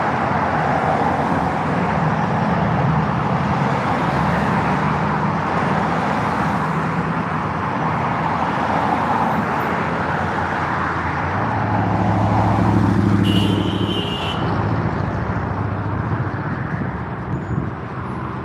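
Continuous road traffic rumbles and swishes past at an intersection, with engines droning and vehicles passing close by, briefly swelling louder partway through.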